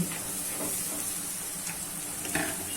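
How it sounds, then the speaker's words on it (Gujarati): Browned onions with spiced potatoes frying in a pan for a leftover-roti snack, a steady close sizzle and hiss with faint stirring scrapes and no voices. "બ્રાઉન કલરની ડુંગળી થવા માંડી છે હવે આપણે બટકા નાખી દઈશું"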